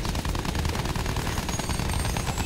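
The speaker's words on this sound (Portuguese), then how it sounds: "O avião aqui atrás vem metendo tiro." Rapid automatic gunfire rattles continuously in the video game Battlefield 1, with a plane firing, loud and dense with overlapping bursts and no pauses.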